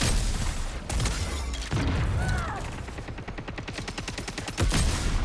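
Sniper and automatic gunfire in the online shooter Concord, a rapid burst of loud shots with booms and mechanical clatter, rattling on in fast rhythm toward the end.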